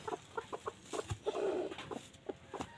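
Brooding desi hens sitting on Chinese duck eggs give soft, low clucks and brief murmuring calls close by, a quiet irregular series of short sounds with one longer throaty rumble in the middle.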